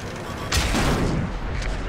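A tank cannon round slamming into the player's tank in World of Tanks: a sudden heavy boom with a rumbling, crackling tail lasting over a second.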